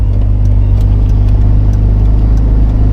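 A car rolls slowly along a road on a cold day, with a worn ball joint giving trouble, and its engine hums as a steady low drone with no voices.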